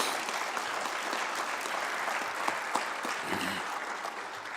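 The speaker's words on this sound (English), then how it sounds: "he deserves a round of applause" A town audience at a State of the Town address applauds the fire chief with a steady, moderate round of clapping that holds at an even level, somewhat distant and roomy.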